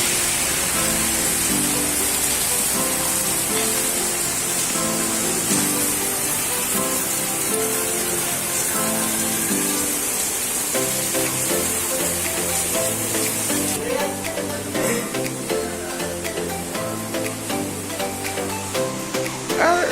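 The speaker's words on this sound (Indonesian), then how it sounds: "Malino diguyur hujan." Heavy rain pours in Malino, a loud, dense, steady hiss of water filling the whole scene, with music-like tonal layers underneath and no clear talk.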